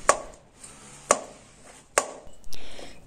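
Knife chopping washed wild mushrooms on a board: three crisp, evenly spaced cuts roughly a second apart, close and clear, followed by a softer scraping sweep.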